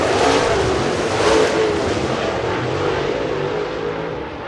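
Race cars roar through the turns at Cherokee Speedway during the Freddy Smith Memorial, a loud, continuous engine howl that swells and eases slightly as the field passes.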